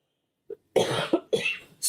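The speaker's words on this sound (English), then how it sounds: "Sorry, had a cough there for a moment." An adult coughs during a holiday gift-tag crafting session: a faint throat catch followed by two harsh, rough bursts of coughing close to the microphone, with near silence between.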